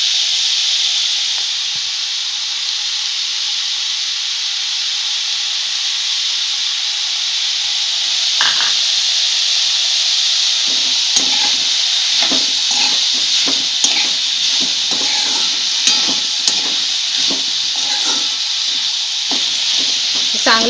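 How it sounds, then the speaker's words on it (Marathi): Masala roasting in a pan for matar paneer until crisp, a steady loud hiss and sizzle throughout, joined partway by repeated scraping stirs close by. "चांगलं खरपूस भाजते मी"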